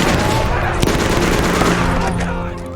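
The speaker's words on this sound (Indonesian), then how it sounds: "Dick tak luput dari tembakan pasukan Nazi yang berada di sana" A dense burst of rapid gunfire from Nazi troops, loud and close, rattling continuously before tapering off slightly at the end.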